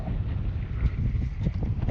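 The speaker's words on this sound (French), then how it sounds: "Nous avons 13 nœuds de vent" Steady wind of about 13 knots buffets a sailboat under its foresail, a low continuous rushing roar with faint water wash and no voices.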